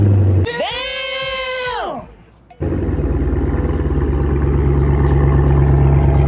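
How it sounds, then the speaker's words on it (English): A car engine nicknamed Red Jewel cold-starts on a rainy day: a loud whining crank with rising tones, a brief pause, then the engine catches and settles into a steady, loud, rumbling idle close by. "And then I'm going to insert a clip of a cold start of Red Jewel."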